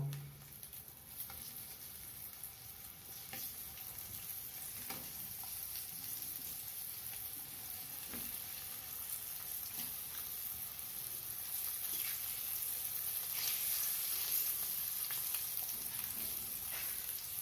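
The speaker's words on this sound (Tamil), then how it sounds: "வதங்கட்டும் கொஞ்சம் நேரம் வச்சு தான் அப்புறம் திருப்பி விடணும்" Halved eggs laid cut side down, frying in a pan of spicy pepper gravy: a faint, even sizzle and bubbling hiss that holds steady throughout, with no one speaking.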